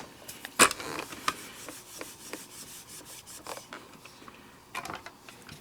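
Blue ink pad rubbed onto a photopolymer stamp, quiet scratchy dabbing and rubbing strokes in irregular bursts, one sharper tap near the start and another cluster toward the end.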